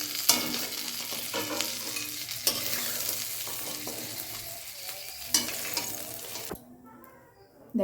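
Crabs frying in hot mustard oil in a pan: a steady, dense sizzle with occasional stirring scrapes, which suddenly drops away near the end, leaving near silence.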